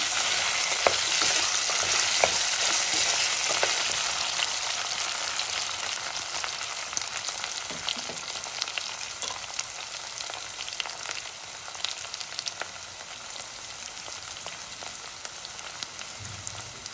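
Bean gravy of black-eyed peas fries in a pan with a steady, close hiss while a spoon stirs it now and then, the scraping strokes clear and unbroken by any voice.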